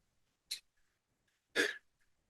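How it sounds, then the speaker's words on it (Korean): Two short, breathy bursts from a nearby person sound like a stifled cough, the second louder than the first, with quiet between them. "기침이 나오다가 안 나왔어"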